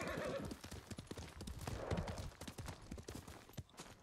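A horse in the Ghost of Tsushima video game gallops with rapid clip-clopping hooves and lets out a whinny, fairly faint, the hoofbeats quick and irregular throughout.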